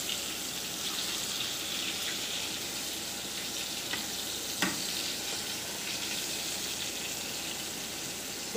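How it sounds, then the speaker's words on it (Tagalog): Milkfish (bangus) soaked in vinegar, garlic and pepper frying in a pan, giving a constant bright sizzle with small pops and a few faint clinks, steady and close with no talking. "Ito magprito ako ng bangus."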